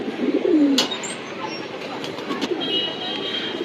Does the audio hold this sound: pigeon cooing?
yes